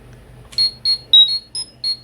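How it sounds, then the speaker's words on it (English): A series of six short, bright electronic beeps from a Power Rangers toy Power Morpher as it opens, evenly spaced in quick succession against a quiet background. "when we open the Morpher, you get this sound effect"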